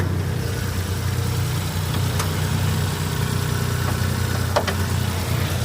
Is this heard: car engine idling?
yes